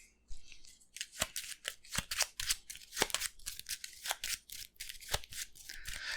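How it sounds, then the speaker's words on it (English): Arkham Horror card game location cards being shuffled by hand, a run of crisp riffling and snapping bursts, close and fairly loud with no talk. "we need to shuffle these locations into here."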